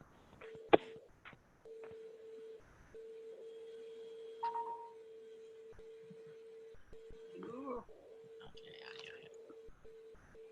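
Telephone call placed during a 2020 chorus rehearsal: a few dialing tones, then a steady line tone that breaks into repeating busy-signal pulses, with faint background voices and noises mixed in.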